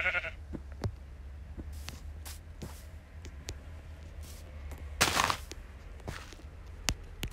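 A sheep in the Minecraft video game bleats in a few short, fairly quiet calls, the clearest one midway, amid soft game footsteps and clicks.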